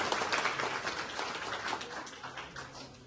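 Audience applause in appreciation of Prime Minister Narendra Modi: a dense, steady wash of many hands clapping, moderately loud, fading slightly toward the end with no talking over it.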